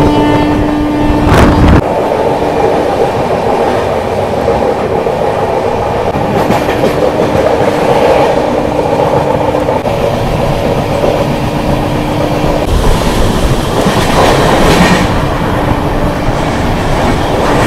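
The Rupashi Bangla Express passenger train rumbles steadily along the rails in fog with a continuous loud roar, a few sharper clanks breaking through now and then.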